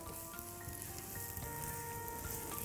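Onions frying in a pan with a steady, dense sizzle that holds at an even level throughout, and no one talking over it.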